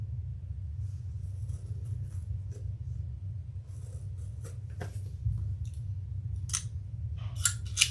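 Scissors cutting holes in handbag material for a crossbody bag's thumb lock, a series of sharp snips and clicks scattered over a steady low hum, close and moderately quiet, with no talking.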